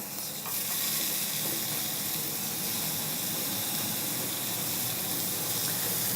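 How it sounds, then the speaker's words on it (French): Pork lard roasting in a frying pan gives a loud, steady sizzle and crackle that fills the whole stretch without a break, with no voices. "celui-là, on va le passer dans la poêle pour le rôtir"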